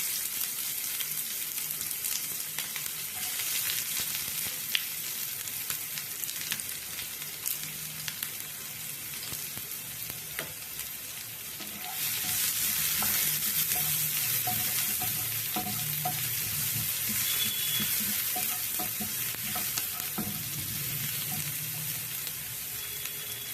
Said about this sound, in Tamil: பொடியாக நறுக்கி ஒரு வெங்காயம் போட்டுருவோம்